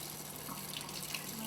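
Water from a tap is added to a sugar and egg-white mixture for decorated Easter sugar eggs, a steady close running trickle that holds evenly throughout with no talk over it.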